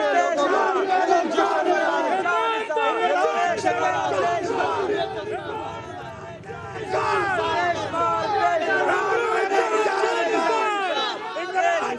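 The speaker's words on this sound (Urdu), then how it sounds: "جبکہ PTI کے حق میں نعرے بازی بھی یہاں پر کی گئی." A crowd in Islamabad chants slogans in support of PTI: many loud voices shout together in steady rhythmic bursts, with dense close babble and a brief dip mid-way before the chanting swells again.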